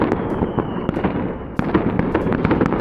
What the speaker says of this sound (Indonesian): Banyak banget di sini tuh, ada 2 atau 3 sumber bunyi petasan.